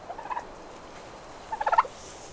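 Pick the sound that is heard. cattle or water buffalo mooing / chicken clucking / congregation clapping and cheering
chicken clucking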